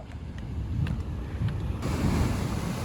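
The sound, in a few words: ocean waves at Devil's Tears, Nusa Lembongan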